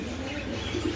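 Pigeons being shown for sale coo softly, low throaty murmurs over a steady background hum, with faint chirps mixed in.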